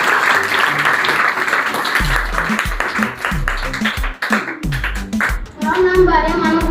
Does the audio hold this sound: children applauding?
yes